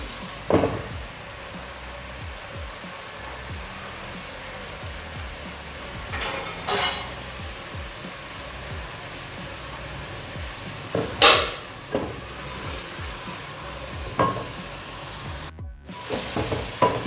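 Ginger, tomato and onion masala fries in a pan with a steady close sizzle, broken by a few sharp scrapes and clinks of a spoon stirring against the metal.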